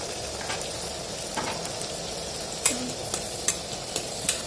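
Tomato puree cooking in a pan with red chili powder and turmeric powder for an Odia-style fish curry in mustard paste: soft steady sizzling with occasional sharp spoon scrapes as it is stirred, no talking.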